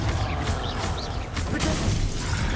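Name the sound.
Confringo blasting spell cast in Hogwarts Legacy video game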